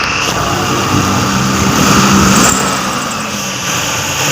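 A Mitsubishi L300 with a 4G63 gasoline engine idles steadily after its misfire was fixed, giving a continuous even hum with no stumbling that stays fairly loud and close throughout, with no talking.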